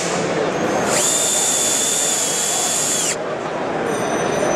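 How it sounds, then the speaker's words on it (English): A power drill drives a wood screw into deck wood, whining at a steady high pitch for about two seconds, then winding down, over loud constant trade-show background noise. "as I drive this screw, I'm going to drive this screw with no more than squeezing the trigger"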